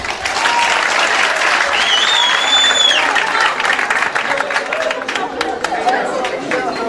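A school audience claps steadily and loudly at a debate final, with chatter mixed in and a few whoops and whistles rising over the applause.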